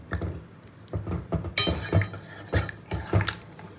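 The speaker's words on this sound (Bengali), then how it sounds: "তো এবার নাড়াচাড়া দিয়ে আবারও ঢাকা দিয়ে দিলাম একটু ঝোলটা ফোটার জন্য" A spoon scrapes and clinks against a pot of meat curry in short, rhythmic strokes, followed by a metallic clatter as a lid goes on, close and moderately loud.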